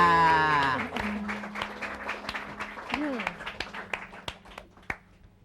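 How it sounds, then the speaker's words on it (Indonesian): A voice speaks briefly, then scattered hand claps follow, a handful of separate claps spaced irregularly rather than full applause, fairly close. "Tapi kita beri tepuk tangan"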